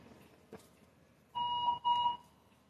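An alarm going off during a sewing session, heard as two loud electronic beeping bursts, steady high tones near and alone in an otherwise quiet room.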